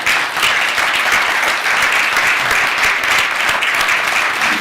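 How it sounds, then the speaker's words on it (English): Audience applause for Ted Gunderson, a former FBI chief, at the close of a talk: a dense, steady wash of many hands clapping at once, loud and sustained throughout with no voices over it. "Let's give a warm round of applause to Ted Gunderson,"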